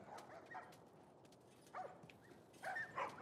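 Dogs in the video game The Last of Us Part 2 give a few faint, distant barks and yips amid a quiet ambient background, with no talking.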